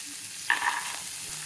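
Onions frying in a pan with a pinch of salt, a soft steady sizzle with one short scrape of stirring, faint and close.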